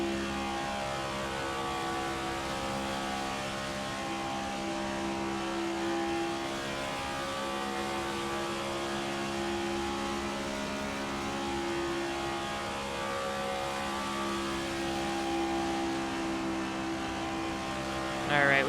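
A NASCAR 25 race car engine drones at steady high revs, loud and continuous with layered engine harmonics throughout, the sound of running laps around Las Vegas.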